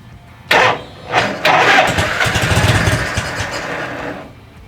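A vintage Harley-Davidson Shovelhead engine cranks with a couple of short starter bursts, then catches and runs roughly for a few seconds before dying away, loud and close with no speech.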